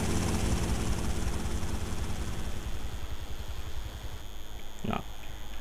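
A helicopter in the game GTA: Vice City flies with a dense, continuous rotor roar and a rapid low chop that stays loud and near throughout, with a brief higher blip near the end.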